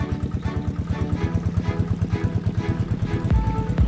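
A deep well irrigation pump engine idles low, thumping in a steady rapid rhythm of regular pulses, loud and close, with a brief clatter near the end.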